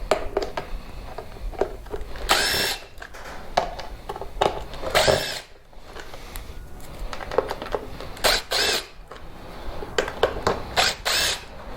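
Power tool backing out four Phillips screws from a Lexus IS300 HID ballast, short bursts of whirring repeated several times at close range with clicks and handling noise between.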